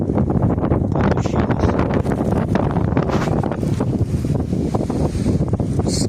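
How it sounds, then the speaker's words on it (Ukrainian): Strong wind buffets the microphone in a constant loud roar with gusty rumbling throughout, outdoors while planting garlic bulbils. "у нас тут вітер сьогодні просто наче з цепу зірвався"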